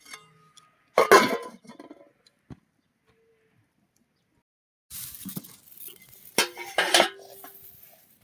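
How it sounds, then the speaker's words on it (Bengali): A metal lid goes onto a cooking pot of egg and potato curry, giving a quiet clatter, a brief tap, then a second run of clinks and scrapes after a pause. "ঢাকনা দিয়ে দেবো।"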